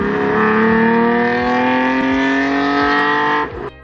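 A 1.8-liter V6 in an early-1990s Mazda MX-3 revs steadily and loudly at sustained high pitch, with a few brief rises, then cuts off abruptly near the end.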